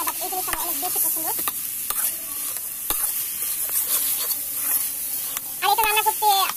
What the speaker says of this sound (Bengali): একদম ভালো করে নেড়ে নিতে হবে, মশলাগুলোকে সুন্দর করে মিশিয়ে নিতে হবে।